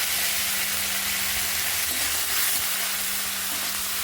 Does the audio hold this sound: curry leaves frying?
yes